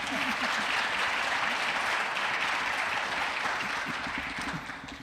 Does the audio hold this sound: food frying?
no